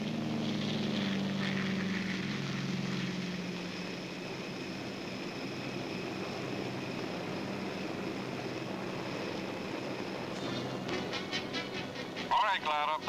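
Aircraft towing CG-4A gliders at night over Normandy: a steady droning propeller engine rumbles throughout, with someone talking over it and a brief sharp crackle near the end.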